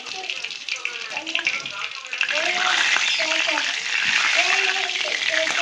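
Fish fries sizzling loudly in hot oil in a pan, a steady crackling hiss that swells as the pieces are flipped, with bubbling spatter throughout.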